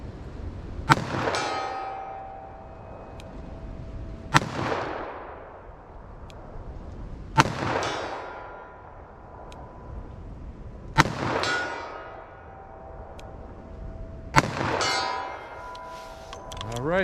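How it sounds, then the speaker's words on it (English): Five loud revolver shots from a Smith & Wesson 686 firing 115 grain jacketed soft point rounds, each followed by a ringing clang of a steel plate hit at 75 yards, spaced about three to four seconds apart outdoors. "I'm gonna launch them off from 75 yards to see how it does for me."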